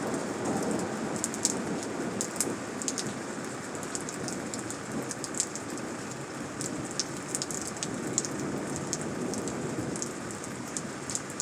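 Steady rain falls outdoors under a white sky with wind, a dense continuous hiss of drops striking surfaces with scattered sharper drips, close and unbroken throughout.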